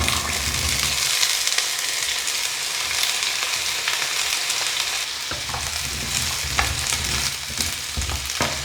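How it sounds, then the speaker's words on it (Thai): Continuous loud sizzling of baby potatoes frying in hot oil in a pan, with occasional stirring scrapes and crackles. "ใส่น้ำมันลงไปแล้วก็ ใส่เบบี้มันฝรั่งลงไปจ้ะ"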